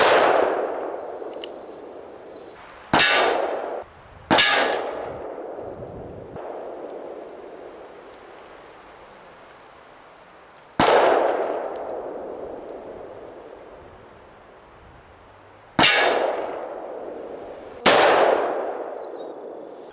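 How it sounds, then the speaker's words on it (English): A Taurus 692 revolver fires six spaced shots at a steel target at long range, each crack followed by a long ringing decay from the hit plate, loud and alone. "Let's just do an even 180 and see if I can hit that metal."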